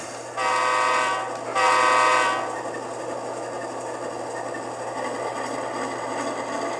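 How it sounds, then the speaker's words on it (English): Model train locomotive, an older Athearn BNSF unit, rolling out of a layout yard: two sustained horn-like toots in succession, then a steady mechanical hum and rolling drone, fairly close, no voices. "We get on the right locomotive. Alright, I think we're ready to roll out of here."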